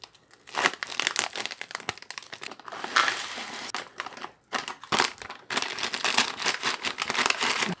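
A hash brown potatoes pouch being torn open at its tear notch, giving bursts of crinkling, crumpling plastic with brief pauses, close and fairly loud.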